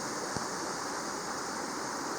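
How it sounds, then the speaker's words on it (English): A little creek flows along the Current River in the Ozark National Scenic Riverways, a soft, continuous rushing hiss of water with one brief faint knock near the start. "right over there is a little creek"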